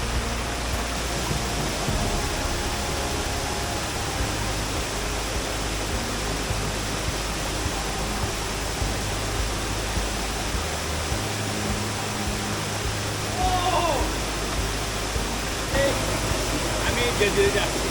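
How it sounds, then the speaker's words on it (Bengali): Steady broadband rush of a waterfall beside a steep hill trail near Sylhet, loud and continuous throughout, with low rumble underneath and no clear speech. "অ্যান্ড ঝর্ণার শব্দ হয়তো আমার শব্দ শোনা যেতেছে না।"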